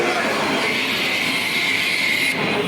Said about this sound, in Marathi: ट्रेन चालू झाली